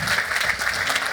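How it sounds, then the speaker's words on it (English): An audience at a Toronto media conference applauds after a presentation, a dense burst of clapping that fills the brief moment without voices. "Big round of applause for Rhonda."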